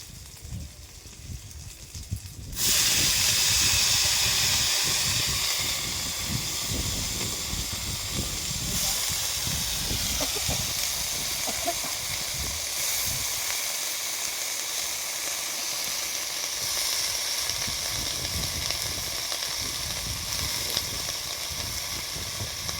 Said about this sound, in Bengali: এবার আলু ভাজা করব। কড়াইতে তেল দিয়ে দিয়েছি,